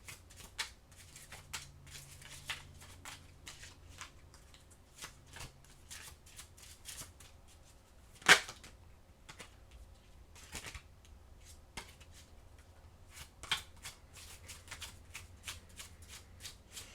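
A deck of oracle cards is shuffled, giving quiet, repeated riffling and flicking clicks throughout, with one sharper snap midway, close and without talk.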